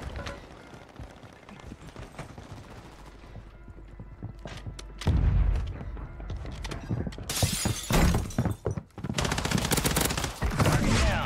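Bursts of gunfire and sharp impacts in the Warzone 3 video game, quieter scattered shots at first, then loud close rapid fire and crashing hits in the second half, with little talk.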